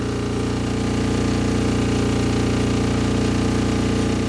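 An MEP-831A Army diesel generator runs steadily under electrical load, giving a loud, continuous mechanical drone with a low engine hum and a rattling texture. No one speaks.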